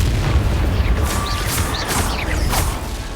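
Several booming blasts of the Confringo explosive spell from Hogwarts Legacy go off one after another, each a loud crackling burst over a steady roar of combat, with no voices.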